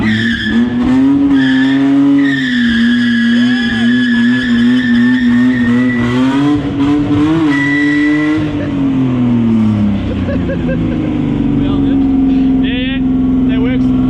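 Nissan Skyline skidding on concrete: loud, sustained tire squeal over a revving, rising and falling engine note that eases off toward the end, with voices faintly underneath.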